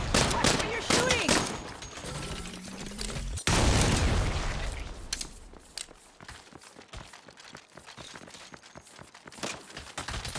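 Gunfire in the Saints Row video game, dense volleys of rapid shots and booms at first that thin out into scattered sharper shots, with game voices mixed in.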